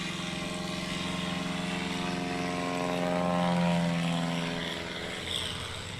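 A 1955 Cessna propeller airplane flies past at an airshow, its steady engine drone swelling as it nears and then fading slightly, loud and sustained with no talk over it.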